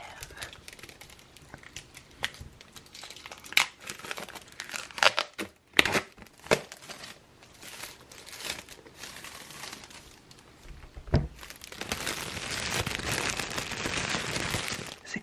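A new notebook being unwrapped, with crinkling plastic, tearing and sharp snaps spread over the clip, then a sustained rustle of crumpling wrap near the end. The sounds are close and there is no talk.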